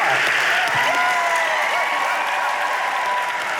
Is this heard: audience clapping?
yes